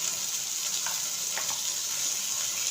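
Chicken with chilli powder being stirred in a frying pan gives a quiet, even sizzle, with a couple of soft scraping touches from the spoon and no talking.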